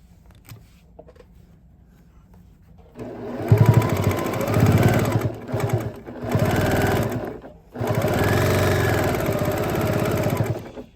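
A sewing machine stitches two dollar store potholders together in three loud, steady bursts of mechanical whirring, separated by short pauses, after a quiet start.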